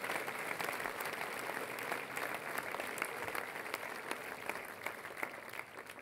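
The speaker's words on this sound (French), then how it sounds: "je vous demande d'applaudir tous ceux qui ont organisé cette rencontre" A crowd at a political rally applauding the organisers, steady dense clapping heard from a distance without a break.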